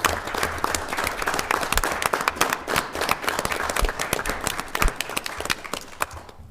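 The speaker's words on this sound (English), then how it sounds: "if we could just give them a round of applause," An audience at a city council meeting gives employees a round of applause, a brisk burst of many hands clapping that carries on steadily for several seconds before tapering off, fairly close with no talk over it.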